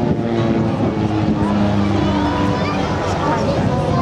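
Two stunt planes at a seaside air show over Clacton-on-Sea in Essex fly toward each other and pass, a loud sustained engine drone with shifting tones as they close, over a steady wash of wind and crowd noise.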